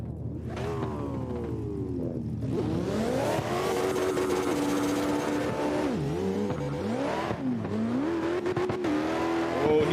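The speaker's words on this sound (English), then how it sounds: "Comes a Viper to the starting line." A Dodge Viper race car sits at the drag strip starting line during open practice, its engine revving loud and close in long rising and falling surges that run without a break for the whole stretch.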